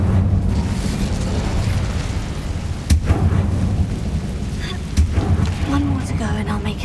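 An Incendio fire spell goes off in the video game Hogwarts Legacy as a dense, roaring burst of flame, with a couple of sharp cracks standing out over a steady low rumble.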